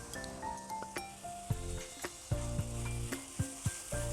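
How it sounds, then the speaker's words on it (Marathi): Veg noodles stir-fried with soy sauce and tomato sauce over a low flame give a close, steady sizzle broken by repeated scraping and tossing strokes and light clinks of the utensil against the pan. "आता हे थोडंसं परतून घेऊया"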